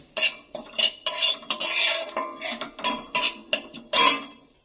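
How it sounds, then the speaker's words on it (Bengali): A utensil stirring asafoetida in hot oil in a pan, with repeated close metallic scrapes and clinks in an uneven rhythm, loud and with no talk. "তেলের মধ্যে একটু নাড়াচাড়া করে দিচ্ছি"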